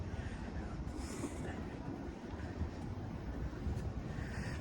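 A Chicago CTA Blue Line train rolls along elevated tracks, a continuous low rumble and rattle of rail cars heard from some distance with faint wind noise and no speech.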